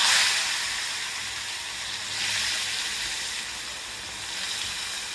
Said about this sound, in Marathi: तर सगळ्यात पहिल्यांदा आपल्याला यामध्ये हा जो कट केलेला कांदा आहे तो घालायचा बघा.